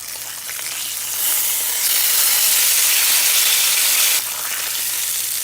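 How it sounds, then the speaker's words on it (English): Ham sizzles loudly in an iron skillet for a Southern cream corn, a dense, close, continuous frying hiss that swells for a few seconds and then eases slightly. "So we're cooking probably a good half a piece in this iron skillet just to add flavor to your cream corn"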